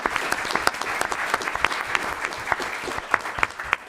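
An indoor school board meeting breaks into steady, sustained applause from people in the room honoring several veterans, with dense clapping throughout and no speech over it.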